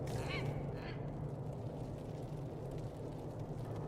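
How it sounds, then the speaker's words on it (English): Birds calling in a fantasy role-playing game, two or three raspy honking or quacking calls early on over a steady low ambient drone. "What kind of birds are those?"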